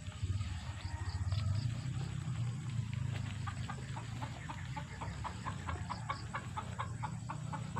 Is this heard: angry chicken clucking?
yes